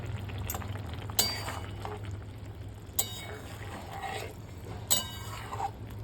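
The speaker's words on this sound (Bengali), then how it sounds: "গরম মশলাটা দিয়ে একটু নেড়ে চেড়ে নিলাম।" Curry with lentil fritters (dal bora) being stirred in a pan after garam masala goes in, a soft steady simmer with a low hum, broken by a few sharp clinks of a spoon against the pan at intervals.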